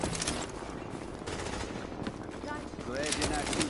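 Automatic gunfire rattles in rapid bursts in the video game Tom Clancy's The Division, loud and dense throughout, with a voice talking over the shooting.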